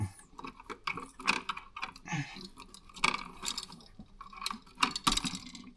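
Wire stripper stripping electrical wire while installing a Leviton USB wall outlet, a series of close mechanical clicks, snaps and scrapes in uneven bursts, no speech.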